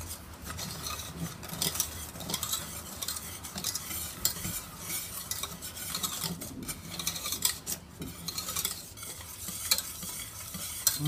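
Salted butter caramel is stirred in a pan as butter melts into it: continuous scraping, rubbing strokes with faint sizzling underneath, close and fairly quiet, with no one talking.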